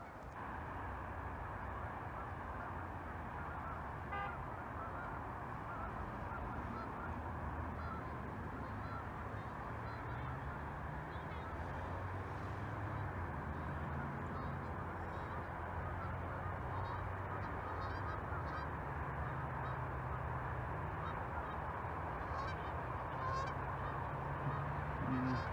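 Geese honk outdoors near an amusement park roller coaster under construction, with distant, scattered calls over a steady wash of broadband background noise.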